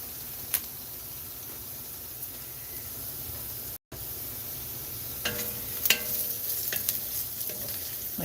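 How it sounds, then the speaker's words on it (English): Burrito filling sizzles steadily in a hot frying pan, a soft continuous crackling hiss with occasional sharper pops and faint clinks. "you'll get to hear the favorite sound, the sizzle."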